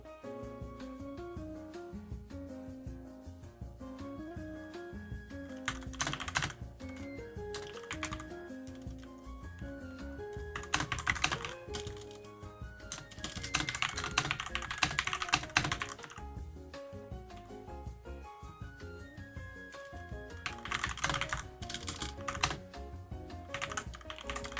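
Steady typing on a computer keyboard, rapid clicking keystrokes throughout with short bursts of faster typing, set against background music with melodic tones, moderately close.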